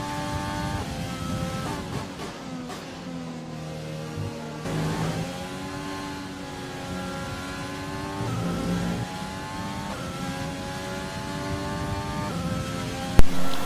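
An F1 race car engine in the video game F1 2020, a loud, continuous high-revving whine that climbs and drops through repeated gear shifts, up close with no pauses.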